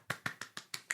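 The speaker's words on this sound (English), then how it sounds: "golf clap." Soft, even hand claps repeat six times in quick succession, each a light, close, dry pat with no voices over them.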